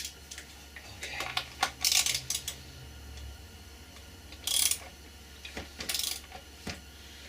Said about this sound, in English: now I'm just going to finish it up by tightening these bolts